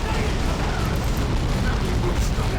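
Dense, booming grenade volley explosions in Warhammer 40K: Dawn of War II - Retribution, a loud, unbroken roar of blasts and battle noise filling the whole stretch, with voices mixed underneath.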